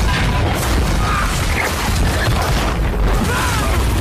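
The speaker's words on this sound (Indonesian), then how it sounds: "Atas keputusan Kapten Flynn, peluru-peluru meriam pun berterbangan." Dense, rumbling barrage from a pirate ship battle in Black Sails, with heavy low booms and crashing bursts blending into a continuous loud roar.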